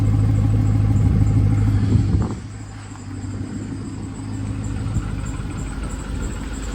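A car engine idles while warming up, a steady low rumble that drops in level partway through, then settles into a softer, continuous hum.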